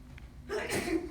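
A single short sneeze in a school classroom, followed by quiet voices in the room.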